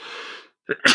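A single sharp sneeze bursts out near the end, preceded by a breathy intake and a brief silence, close and fairly loud.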